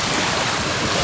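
Sea waves wash against the shore in a dense, continuous roar, with heavy wind buffeting the microphone.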